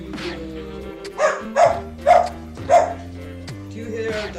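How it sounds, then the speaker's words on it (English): A dog barks four or five times in sharp, evenly spaced bursts, fairly close and loud, with low household background sounds between the barks. "Do you hear a dog barking?"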